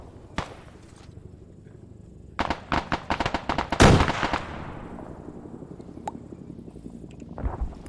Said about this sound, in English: That was an HE rocket.